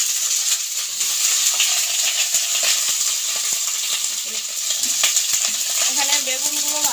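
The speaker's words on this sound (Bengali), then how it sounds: "এখানে বেগুনগুলো ভাজা হচ্ছে" Eggplant fries in a pan in a home kitchen, a loud continuous sizzle with bright crackling, and a few faint clinks near the end.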